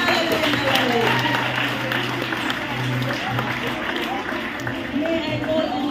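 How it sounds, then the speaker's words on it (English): A church congregation gives a steady, dense round of applause in praise, the clapping filling the whole stretch with crowd murmur mixed in and no clear break. "Can we give a hand clap of praise to the Lord?"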